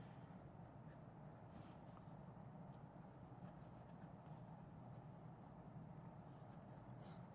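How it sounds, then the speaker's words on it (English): Pencil scratches across paper close by during drawing, with a continuous soft scribbling texture and a few sharper strokes, faint and steady throughout. "I am drawing it in my style."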